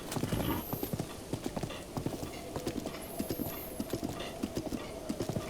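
Horse hooves trotting across ground in Zelda Breath of the Wild, a quick, regular clip-clop rhythm close by, with brief bright chimes over it.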